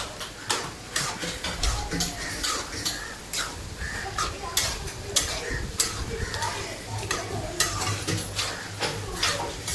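Clams are tipped into a sizzling tempering and stirred in the pan, with repeated scraping and clattering strokes over a low frying hiss at close range.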